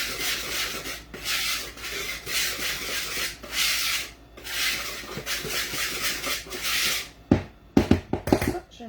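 Flour is stirred together with baking soda and ground ginger in a bowl for molasses cookies, a soft, steady swishing and scraping rub in repeated rhythmic strokes, closing with a few sharp knocks of the utensil against the bowl.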